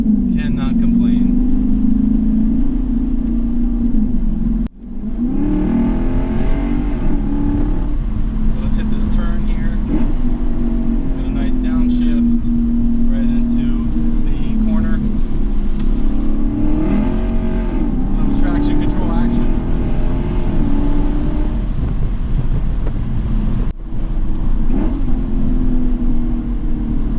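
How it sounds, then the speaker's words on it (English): A 2008 Lexus IS F sports car engine hums steadily from inside the cabin, with a low droning tone that rises and falls slightly as it drives, and a person talking over it. "Very smooth, good sounding car that drives really well."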